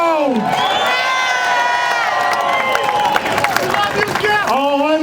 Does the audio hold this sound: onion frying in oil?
no